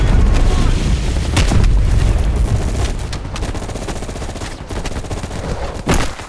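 Heavy gunfire in a Vietnam 1968 firefight in the video game Black Ops, with rapid automatic bursts, sharp cracks and deep booming blasts layered loud and close, thinning slightly before a final sharp report near the end.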